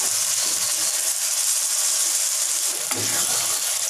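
Tomatoes and capsicum sizzling in a pan for pav bhaji, a constant close, hissing fry noise with a brief stirring bump near the end and no talking.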